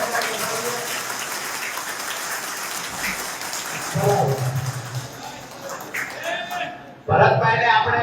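Audience at a political rally clapping, a continuous crackling patter of hands that swells in bursts, with voices mixed in and a louder surge near the end.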